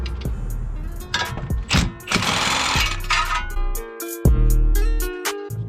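Wrench work on a 19mm bolt and tie rod of a Nissan 350Z suspension, with bursts of impact-gun rattling, ratchet clicks and metallic clanks, close and uneven.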